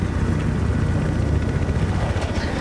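A helicopter in the video game Battlefield 4 roars loudly and continuously, a dense rotor-and-engine drone that fills the scene without letup.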